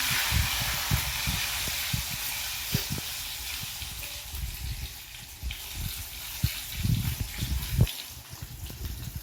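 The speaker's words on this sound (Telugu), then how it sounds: "పోపు బాగా వేగనిద్దాం." Chana dal, mustard seeds, cumin, a few fenugreek seeds, crushed garlic cloves and two dried red chillies fry in hot oil for a tempering, giving a steady hiss with scattered pops and crackles, close and moderately loud.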